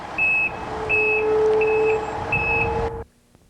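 Delivery truck backing up, steady repeating reversing beeps over a low idling engine rumble, loud and near, ending abruptly into quiet.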